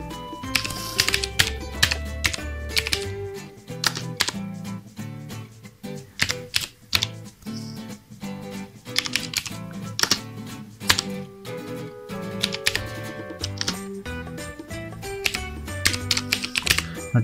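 Typing on a computer keyboard while entering commands, a close, rapid clatter of key presses in irregular bursts with brief pauses between words, no talking.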